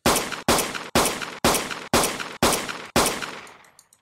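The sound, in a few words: gunfire from a Unity FPS video game weapon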